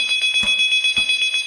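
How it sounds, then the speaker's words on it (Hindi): A bright electronic ringing tone pulses rapidly and continuously, loud and close, from a phone ringing in a delivery dark store. "एक डार्क स्टोर में फोन की घंटी बजती है।"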